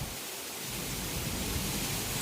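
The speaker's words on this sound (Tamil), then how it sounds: "செம்மையாக இருக்குது காற்று மழையும்." Wind rushes with steady rain, a broad noisy hiss that fills the whole stretch and swells slightly louder toward the end.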